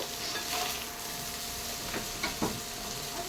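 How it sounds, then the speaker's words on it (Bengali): Vegetable chow mein is tossed with a spatula and a spoon in a frying pan, with a continuous sizzle broken by a few distinct scraping clinks of metal against the pan. "এবার খুন্তি ও একটা চামচের সাহায্যে একটু নাড়িয়ে নেব"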